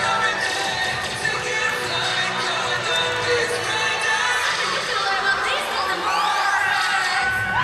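A crowd at a high school competitive cheerleading state final cheers continuously and loudly, with shouts and whoops throughout.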